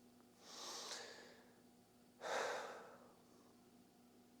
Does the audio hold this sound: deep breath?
yes